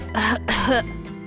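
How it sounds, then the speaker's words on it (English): A video game character in Bloodstained Snow, a Japanese indie horror game, coughs hoarsely, two close rough bursts followed by a fainter trailing one, heard alone. "He coughed before he was done answering."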